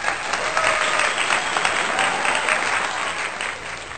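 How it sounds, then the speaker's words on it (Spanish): Applause sound effect: a dense, steady burst of crowd clapping lasts the whole four seconds at an even, fairly loud level. "Un aplauso por favor para Luis."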